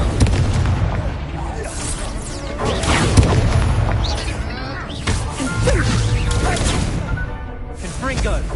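Confringo blasting spell from a Harry Potter video game, loud booming explosions and crashing bursts repeated throughout, mixed with spoken voices.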